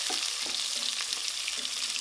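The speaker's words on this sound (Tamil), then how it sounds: "2 பெரிய வெங்காயத்தை இந்த மாதிரி நீல வாக்கில் கட் பண்ணி சேர்த்துக்கலாம்" Sliced onions frying and sizzling in ghee for a white kushka biryani, a steady broadband hiss with occasional stirring scrapes, close and continuous with no talking.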